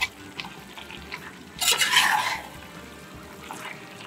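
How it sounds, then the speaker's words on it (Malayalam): Beef curry in Kerala style being stirred in a pan over high flame, soft wet scraping and bubbling with a louder burst of sizzling and stirring in the middle. "നന്നായിട്ട് എല്ലാ സൈഡും ഇളക്കി"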